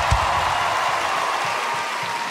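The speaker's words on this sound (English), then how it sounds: "Can you give him a round of applause?" A Royal Albert Hall concert crowd at a show breaks into dense, sustained applause that fills the hall evenly from start to finish.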